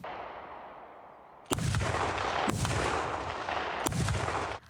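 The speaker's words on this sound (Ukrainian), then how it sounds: "Гармату обслужили, гармату зарядили, і зараз будемо виконувати стрільбу." Swedish PBV-302 armored personnel carrier firing its autocannon, rated at eight rounds per second: three loud, close bursts of rapid shots, each booming and roaring on, filling the rest of the clip after a quiet start.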